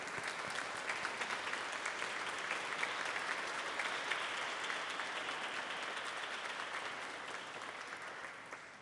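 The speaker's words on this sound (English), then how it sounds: "Let our graduates thank you with a round of applause." Graduates at a mortuary science graduation ceremony applauding their standing family and friends, a broad, dense roar of many hands clapping from a large crowd, steady and sustained before slowly tapering at the end.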